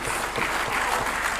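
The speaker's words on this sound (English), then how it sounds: "Can we give him a resounding applause?" Audience applause fills a hall at a 2024 budget presentation, steady and dense clapping throughout, with no voices rising above it.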